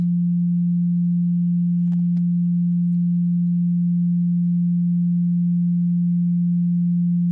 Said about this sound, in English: these ones are pure tones